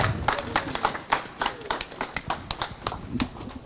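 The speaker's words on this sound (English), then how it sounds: "Yes, can we clap?" A crowd claps at a building unveiling for a university's Faculty of Computing and Informatics, a steady run of sharp, fairly close hand claps repeating rhythmically for several seconds with no talking over it.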